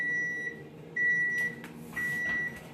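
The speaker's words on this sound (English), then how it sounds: "I just have one timer for all the ovens, and I don't like it just beeping constantly" Steady electronic beeps from a single kitchen timer shared by several ovens at a winter market bakery, sounding in three long tones with short gaps, with clattering bangs in the background and no talk.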